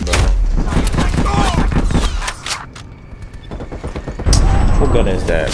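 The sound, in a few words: gunfight gunfire in video game Call of Duty Cold War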